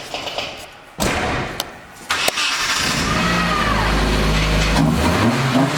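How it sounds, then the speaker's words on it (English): A car engine cranks and catches after a few thuds, then settles into a loud, steady running drone close by, with a faint whine in it, heard without talk. "Power steering's pretty loud still."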